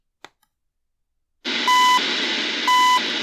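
Beeps from the CHU shortwave time signal station come through a Prunus J-924 emergency radio: a faint click, then a steady hiss of static carrying two clear, even tones about a second apart, with no speech.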